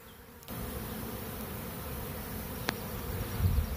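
Steady, dense buzzing of many honey bees from a newly installed package around a hive, close by, a continuous droning hum that swells slightly louder near the end.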